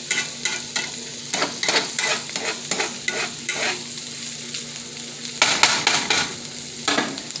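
Ground beef frying in a pan for a Bronx bodega-style chopped cheese, with a steady sizzle broken by repeated scraping and chopping strokes of a spatula, close and fairly loud, and no talking.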